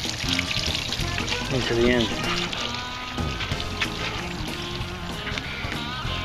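Water from a hose runs through flush muffs clamped over the intakes of an outboard motor, a steady pouring, gushing wash close by with someone talking over it.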